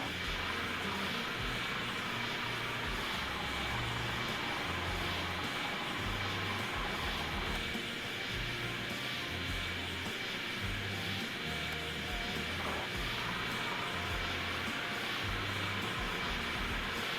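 Jet airliner engine roar from the Airport Simulator 2014 video game as a plane comes in to land, a loud steady broadband drone that holds for the whole stretch with a brief mid-range swell partway through.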